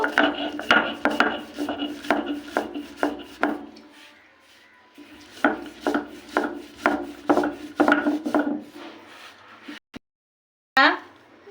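Peanuts, chili, onion and garlic ground on a stone slab, with rhythmic rasping strokes of the grinding stone in bursts, pausing midway and then resuming, close and fairly loud.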